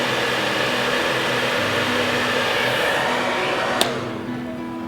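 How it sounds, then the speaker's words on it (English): Hair dryer blowing on latex makeup, a steady loud whooshing airflow with a faint motor hum that cuts off abruptly with a click near the end, leaving a softer fading drone. "Then take your blow dryer. Ensure that it's not too hot for your model, and dry it."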